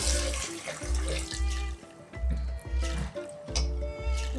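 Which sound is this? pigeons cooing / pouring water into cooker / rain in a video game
pouring water into cooker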